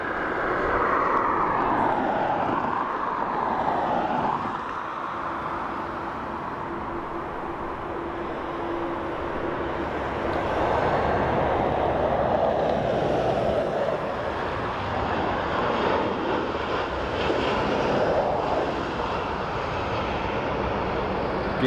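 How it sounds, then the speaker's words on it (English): An EgyptAir airliner from Cairo arriving at Dublin Airport, a long sustained roar of jet engines with a shifting whine, moderately loud and distant, with voices talking over it. "The Egyptian Air in from Cairo."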